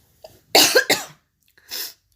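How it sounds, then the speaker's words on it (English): A person coughing: a faint breath, then two loud harsh coughs close together, and after a short pause a softer final cough, all close to the microphone. "As I had a very bad cough."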